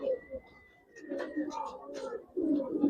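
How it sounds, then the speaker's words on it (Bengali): Giribaz racer pigeons cooing softly in a loft, low murmuring coos repeating close by, with a faint voice in the background. "এটা কিন্তু ছাড়াছাড়ি ব্লাড লাইনের কবুতর"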